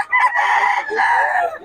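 A rooster crows nearby among many chickens in Bocaue, a loud drawn-out call in two rising and falling parts.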